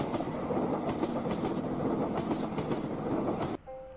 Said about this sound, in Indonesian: tiba-tiba terdengar kereta api lewat